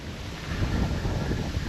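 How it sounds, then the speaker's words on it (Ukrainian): Strong wind roars steadily against the microphone, a loud continuous rumble with no voices. "вітер"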